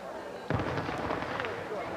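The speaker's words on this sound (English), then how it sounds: "You will hear from time to time a firework or so." One sharp firework bang from a nearby carnival pops out at an amateur all-star baseball game, followed by a crackling tail over steady crowd and field ambience.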